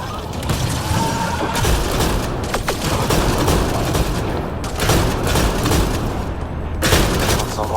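Steady gunfire rattles throughout a firefight in the video game Mass Effect Andromeda, with continuous loud bursts and booms in a dense, unbroken wall of shooting.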